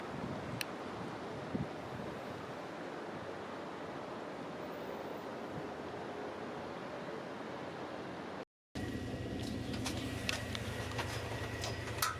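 Strong, stormy wind roars and buffets the microphone continuously on Stromboli island, with a brief dropout before the gusting resumes.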